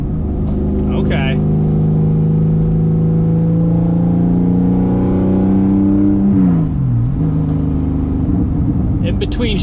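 A Porsche 996 fitted with a race exhaust revs hard with a loud, steady drone that climbs, then dips sharply through a shift with a brief whooping drop before rising again, recorded close up.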